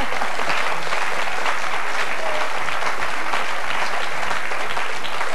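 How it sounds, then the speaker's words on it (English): Studio audience applauding a comedy-show guest's inflatable half-man invention for lone drivers, a dense steady wash of many hands clapping throughout, fairly close and full, with no talking. "you certainly got a round of applause"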